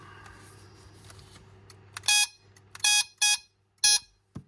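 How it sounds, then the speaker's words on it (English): A 1976 Mego Star Trek Super Phaser II target toy buzzer sounds in short electronic bursts, four quick beeps in an uneven rhythm with a softer fifth at the end, over a quiet hum. "hit it right so that the beam reflects back into the sensor, which is just below the light here, to make the buzzer"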